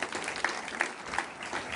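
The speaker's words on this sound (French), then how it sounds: "le succès remarquable de ces anciens qui méritent tous vos applaudissements" Brief applause from an audience at an INSEAD alumni event, a dense wash of many hands clapping at moderate distance, steady and short.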